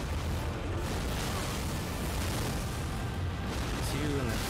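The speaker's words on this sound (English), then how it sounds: "Because that's an explosion." Explosions from the Elden Ring video game give a dense, continuous rumbling roar of blasts and booms at high level that fills the whole stretch.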